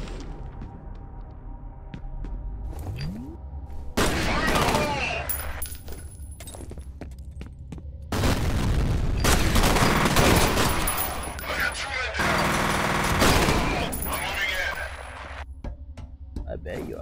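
Gunfire in the shooter game F.E.A.R., with heavy bursts of automatic fire in long stretches separated by quieter gaps, loud and close, and someone talking in between.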